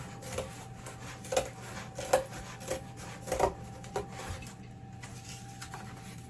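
Tough cardboard is being cut by hand at a sewing-room craft table, heard as a string of rasping, scraping strokes at an uneven pace, close and fairly quiet, with no talking.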